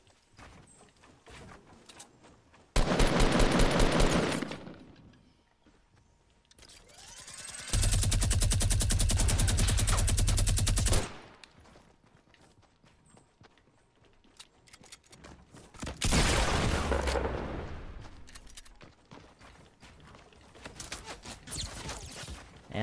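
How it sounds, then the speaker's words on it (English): Fortnite gunfire comes in three long, loud sustained bursts of rapid automatic fire, separated by quieter stretches with scattered single shots and game sounds, and no voices. "I'm getting shot from behind"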